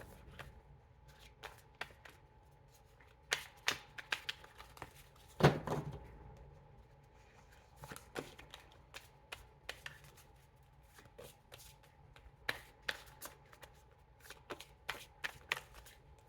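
Tarot cards are shuffled by hand in repeated bursts of riffling and sharp slaps, close and crisp, separated by short quiet gaps.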